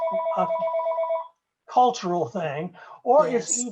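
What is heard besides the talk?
phone ringing during a call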